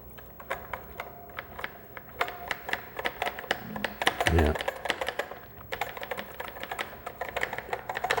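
Rapid clicking keystrokes on a Commodore SX-64 keyboard with a worn membrane, a close, irregular run of taps with a brief heavier thump midway.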